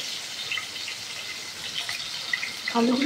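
Potatoes tipped into hot oil in a wok (kadai) seasoned with a bay leaf and whole cumin, giving a steady hissing sizzle throughout, with a brief clatter toward the end.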